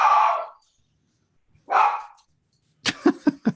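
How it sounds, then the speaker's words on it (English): Dogs bark in a few bursts: two rough, fairly loud barks separated by silence, then a quick cluster of four sharper barks, nearby, with no talking. "So while the dogs are barking"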